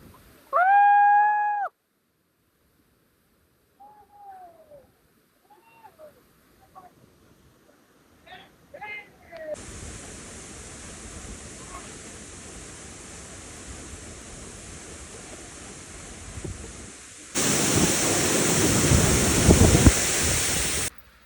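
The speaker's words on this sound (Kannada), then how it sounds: "ಇದ ನೋಡ್ರಿ ಶಿರ್ಲೆ ವಾಟರ್ ಫಾಲ್ಸ್ ಯಲ್ಲಾಪುರ್" Shirley waterfall near Yellapur, a broad steady roar of falling water that starts midway and grows louder near the end, with voices and a whistle-like tone before it.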